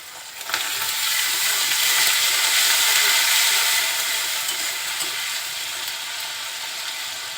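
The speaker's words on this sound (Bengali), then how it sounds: "বাটা মশলাটা তেলের সাথে খুব সুন্দরভাবে কষিয়ে নিব" Ginger and garlic paste fries in hot oil with softened onion, a loud, steady, close sizzling hiss that swells after a brief start and then eases slightly, with no one speaking.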